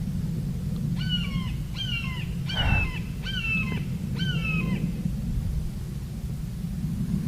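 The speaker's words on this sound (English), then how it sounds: "I hear a crow. That crow's talking." A crow caws five times in a steady series over constant background rumble, moderately close.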